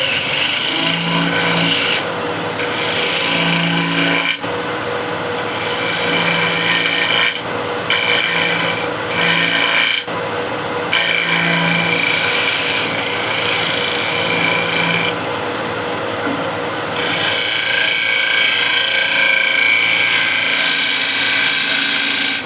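Shear scraper shaping a wooden hexagon plate on a lathe, a continuous rough scraping rasp over the spinning wood, interrupted by several short breaks as the tool lifts away, close and loud.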